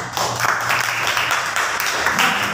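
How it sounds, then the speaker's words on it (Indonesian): Classroom applause from a group of students during a lesson, a steady dense patter of clapping lasting the whole stretch at moderate level with no clear voices over it. "Tepuk tangan semuanya."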